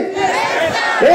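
A festival crowd at Egasi Festa 2024 in Burgas shouts back "Festa" in unison as part of a call and response, one loud, brief collective yell.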